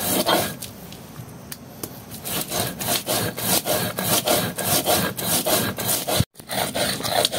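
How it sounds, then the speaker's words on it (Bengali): Black pepper, mace and nutmeg are ground on a flat grinding stone, a close, rhythmic rasping scrape repeated in quick, even strokes with one brief pause near the end. "এই যে আমি বেটে নিতে আছি গোলমরিচটি আর জৈত্রী"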